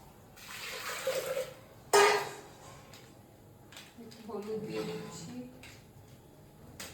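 Water pours into a cooking pot of whole tomatoes for arhar dal, a splashing gush in short bursts, loudest around the middle, with quieter kitchen movement between.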